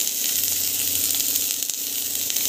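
Onion and mustard seeds, along with cumin and chilies, sizzle steadily in hot oil for a breakfast dish, a dense, even crackling hiss that stays loud and close throughout with no voices.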